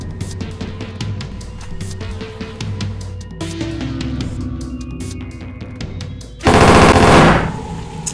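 Machine gun fire from enemies in a Minecraft game, rapid rattling bursts of shots, closer and louder toward the end with a dense roaring blast, no talking.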